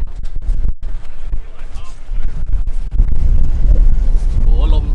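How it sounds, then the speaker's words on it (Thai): Strong wind buffets the microphone outdoors at Gala Yuzawa ski resort, gusty low rumbling that swells louder in the second half while a person talks over it. "วันนี้ลมแรงมากเลย"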